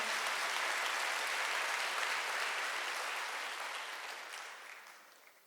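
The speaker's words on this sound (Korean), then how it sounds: "박수" Church congregation applause during a sermon: a broad, even roar of clapping from many hands that holds steady, then gradually fades toward the end.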